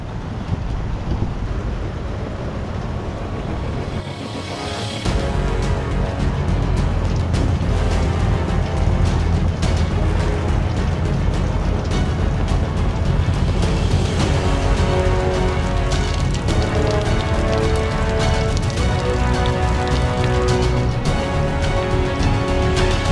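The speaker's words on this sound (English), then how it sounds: "it's just a little passing storm, so we'll hunker down and then it'll pass over" Steady, loud rushing wind from a passing rainstorm buffets the microphone at a Fraser Island campsite, with broadband roar and gusts building after a few seconds; no voices.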